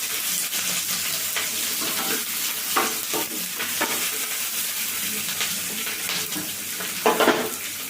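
Chopped onion and green chilies fry in a pan for chilli brinjal, giving a steady close sizzle with stirring scrapes and occasional clinks of a utensil against the pan.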